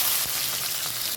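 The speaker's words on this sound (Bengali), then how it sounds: "এবার তেলের উপরে আমি দিয়ে দেবো গোটা রসুনের কোয়াগুলি।" Whole garlic cloves fry in hot oil in a pan, giving a brief, steady, close sizzle with no talk.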